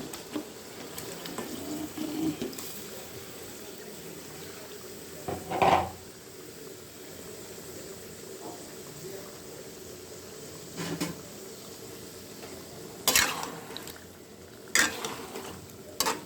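Washed fish go into a pan of cooked-down spice paste to sauté, a low steady sizzle broken by a few sharp clinks and clatters of utensils against the pan.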